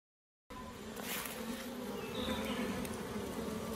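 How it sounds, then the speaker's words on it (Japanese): Japanese honeybees that have fled the hive during honey harvesting swarm around outside it, a dense, continuous buzz that starts abruptly after a brief silence and stays close and steady. "外へ退避した蜂たちです。"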